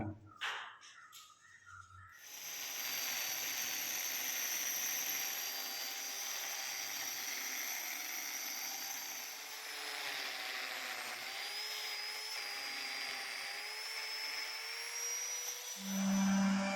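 A power drill bores holes in floor tile for one-inch posts, a steady loud whining grind that runs continuously for over ten seconds after a few short clattering sounds at the start.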